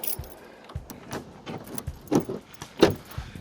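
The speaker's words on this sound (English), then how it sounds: "If I can get the keys out." Car keys jangle in a pocket as they are pulled free outdoors at a bushland walking track, a run of close, bright metallic clinks and rattles in uneven bursts with no talk.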